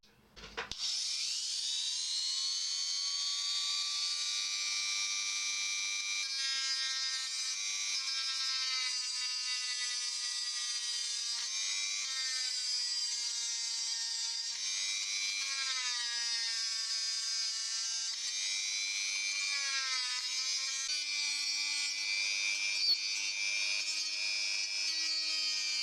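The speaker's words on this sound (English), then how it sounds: "So I'm going to Dremel safety glasses. And all we're going to do is just grind away this." A Dremel rotary tool grinds away material in a loud, continuous high-pitched whine that holds for a long stretch, its pitch wavering slightly as pressure on the workpiece shifts.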